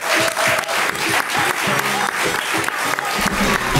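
A studio audience claps steadily throughout, a dense, loud wash of applause with a bit of crowd noise and no one speaking.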